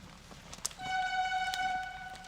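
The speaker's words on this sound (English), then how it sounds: "4 or more whistles means give slack." A logging whistle signal on a timber yarding operation in the woods: a single steady, fairly loud whistle blast sustained for well over a second after a short knock, with no voices.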